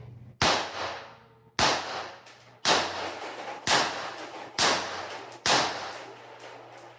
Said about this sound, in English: with the Humorex CO2, it fired all 6 shots without an issue